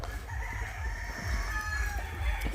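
A country chicken rooster crows once, fairly distant, at a poultry shed holding 1,500 birds, over a steady low rumble of background noise.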